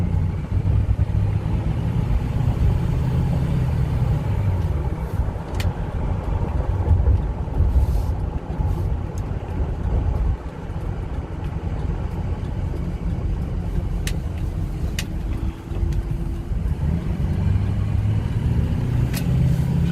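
A 2007 Ford F-250 4WD Lariat with the 6.0L Powerstroke diesel and turbo drives steadily, giving a continuous low engine and road rumble with faint wind noise and no talking.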